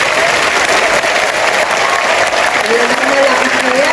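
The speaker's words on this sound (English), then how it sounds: "let us give them all our loudest applause" Loud, sustained applause from a large audience at an oath-taking ceremony for new professional teachers at PICC, a dense unbroken wash of clapping with faint voices underneath throughout.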